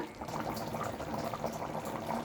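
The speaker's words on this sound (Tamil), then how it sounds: "இதுமாரி நல்லா கொதிக்கிட்டுங்க." Steady bubbling of a thick vegetable white kurma curry simmering in a pot, a continuous soft gurgle and pop at close range with no talking.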